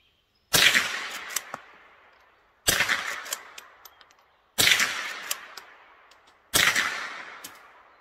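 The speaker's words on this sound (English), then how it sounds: "let me see if she shoots" Four sharp, evenly spaced gunshots from a Marlin Golden 39A .22 lever-action rifle, each a crisp close crack with a short ringing decay, with quiet gaps between shots.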